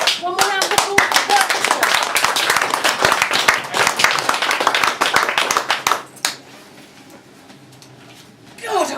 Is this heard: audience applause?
yes